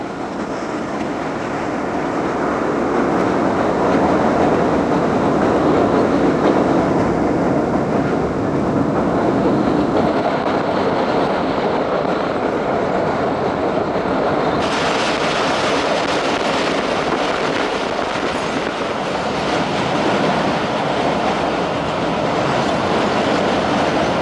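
Passenger train 47Up Rehman Baba runs at night, a loud, continuous rumble and wheel noise heard from on board throughout.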